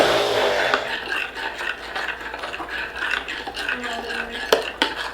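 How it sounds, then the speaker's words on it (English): Stirring a warm mixture into eggs in a bowl for candy cane ice cream, soft continuous scraping and swirling of a utensil against the bowl with a few sharper clinks, close and without talk. "add this in, and stir it as we add it"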